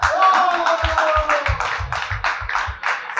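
A crowd at a hotel event gives rhythmic hand claps in a regular beat, with a brief voice-like tone at the start.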